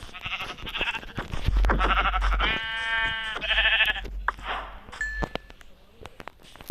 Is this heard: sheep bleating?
yes